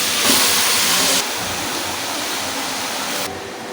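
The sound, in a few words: sizzling of Malabar spinach cooking with hilsa fish heads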